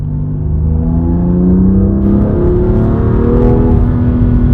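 A 2019 BMW M2 Competition accelerating hard along a straight, its engine note loud and steady from inside the cabin as the pitch climbs through a gear and keeps rising, with no talking.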